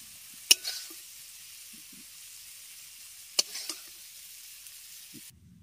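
Bottle gourd and shrimp fry in a pan. A faint, thin sizzle runs under two sharp utensil clacks, then cuts off into near silence.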